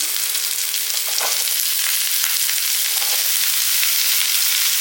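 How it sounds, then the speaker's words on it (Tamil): Chopped onion and bottle gourd sauté in a pan for a Tamil kootu, giving a steady, close, moderately loud sizzle with a few brief stirring scrapes and no talking. "வெங்காயம் வந்து இந்த அளவுக்கு வதங்கினா போதும் இப்போ நம்ம அந்த சுரக்காயை வந்து நம்ம இதில் எடுத்து போட்டுக்கலாம்"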